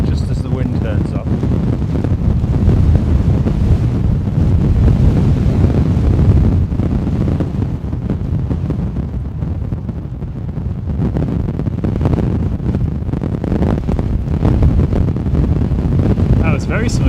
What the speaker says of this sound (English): Just as the wind turns up.